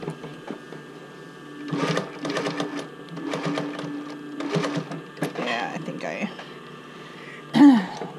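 A home sewing machine stitches a swim top band in short bursts of rapid, rhythmic needle chatter with pauses between them, fairly close and clear, and a voice clears its throat near the end.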